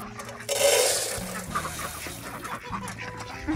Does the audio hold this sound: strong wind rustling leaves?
no